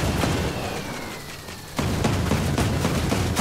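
Rapid bursts of video game gunfire in Ghost Recon Breakpoint crackle in quick succession, sharp repeated shots over a dense, noisy background with no talking.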